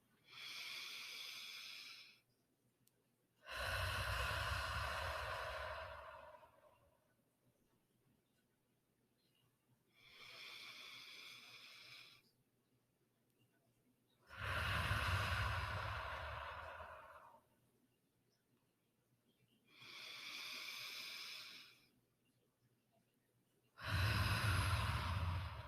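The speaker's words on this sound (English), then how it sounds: "Breathe with me." Slow guided deep breathing for grounding, heard as six long inhales and exhales spaced a few seconds apart, close and soft, each breath a drawn-out airy rush with quiet pauses between.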